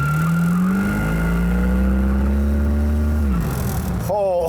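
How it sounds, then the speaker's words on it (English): A muscle car's engine is floored, its loud revving climbing steadily in pitch for about three seconds before dropping off, with a brief sharp squeal at the end. "And Jay, what would be a muscle car if you didn't sit here and just hit the gas to the floor once and see what happens?"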